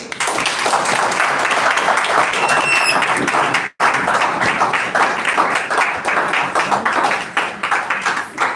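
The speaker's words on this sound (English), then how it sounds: "A round of applause once again for that wonderful exposition" An audience at a university chapter event applauds with dense, loud clapping, broken by one brief dropout, then fading slightly toward the end.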